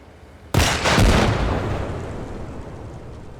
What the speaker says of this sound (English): Just one well-placed RPG to the front will engulf the BTR in flames, killing all the crew inside